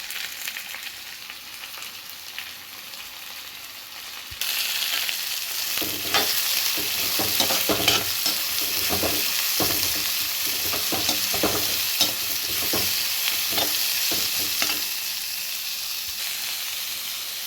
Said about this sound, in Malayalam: ഇനി അതൊന്ന് നന്നായിട്ടൊന്ന് വഴറ്റി കൊടുക്കാം.